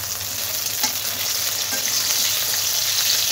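Potatoes and eggplant fry in a pan with spices while being stirred, giving a steady close sizzle with soft scraping strokes throughout and no talking.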